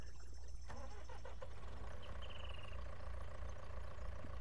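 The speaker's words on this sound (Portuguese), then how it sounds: "Barulho de motor a diesel." John Deere tractor diesel engine in a farming video game, running at a steady idle with a constant low rumble throughout, plus faint mechanical ticks and a brief high whine midway.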